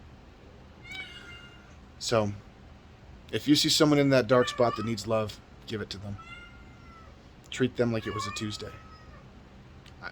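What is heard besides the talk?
cat meowing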